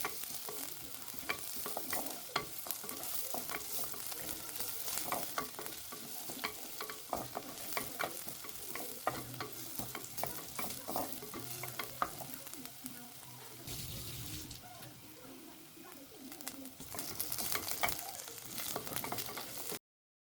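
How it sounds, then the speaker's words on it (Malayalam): Small shallots frying with mustard seeds and dried chili in a pan as a drumstick fry is made, a dense continuous sizzle with frequent crackles and stirring scrapes that eases briefly midway before rising again. "ഇവിടെ ഞാൻ 10 ചെറിയ ഉള്ളി ഇതുപോലെ അരിഞ്ഞതാണ് ചേർത്ത് കൊടുക്കുന്നത്."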